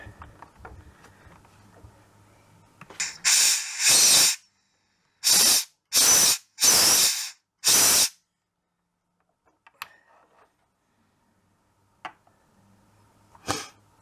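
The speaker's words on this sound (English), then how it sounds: "just squirt a bit of compressed air down the valve to get any gunge out that might be in it" Compressed air is blasted through the valve of a Crosman 1377 air pistol during servicing, giving several loud, hissing bursts: one long blast, then three or four short ones in a row, with quiet gaps and faint handling clicks between.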